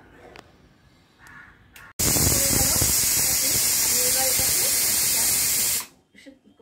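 A pressure cooker on a gas stove vents steam in a loud, steady hiss that starts abruptly and holds for about four seconds before cutting off, with quieter kitchen sounds before and after.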